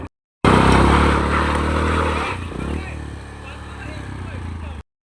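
A motorbike engine idling and revving on a rough trail near water, loud and close at first, then settling to a steady lower drone; a voice speaks over it.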